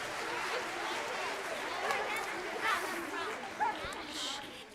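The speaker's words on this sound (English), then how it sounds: "So let's give them all a round of applause." Audience at an elementary school 4th and 5th grade concert clapping for teachers, steady dense applause throughout with a few louder individual claps and faint crowd murmur.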